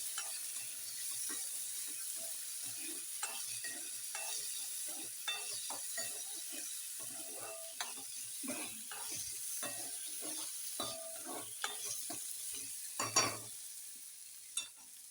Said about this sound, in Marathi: डाळ तेलात परतून घेऊया थोडंशी